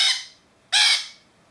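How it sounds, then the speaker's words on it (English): A lorikeet squawks twice while being handled, two harsh, loud, close screeches separated by a short pause. "You're a squawker."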